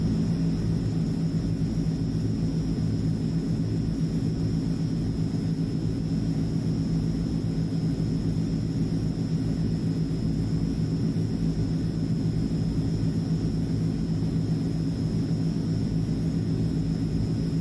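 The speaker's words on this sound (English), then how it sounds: "Here we go, altitude mode has engaged. The plane is slowly approaching the target altitude." Transall turboprop transport aircraft cruising in a flight simulator, a constant deep droning engine rumble with a steady high whine, unchanging from start to finish.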